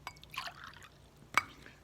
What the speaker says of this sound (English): I'm going to pour that into a glass.